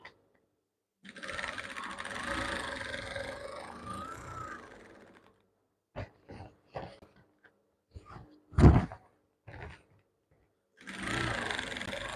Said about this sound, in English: So now we're stitching the side of our trouser.